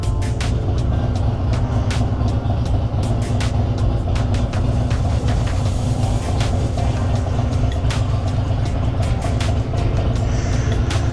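Steady engine rumble and wind roar from a Harley-Davidson Breakout motorcycle being ridden on a foggy road, continuous and loud throughout with no talking.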